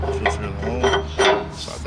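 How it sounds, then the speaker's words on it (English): A metal safety bar slides through metal bracket plates on a portable solar surveillance tower mast, giving a few short scraping, clinking metallic rubs close up. "grab your safety bar, slide it through here"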